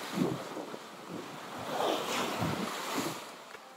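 Offshore ocean waves surging and wind roaring against a sailboat beating upwind, with rolling swells of water rush rising and falling and steady wind noise buffeting the microphone.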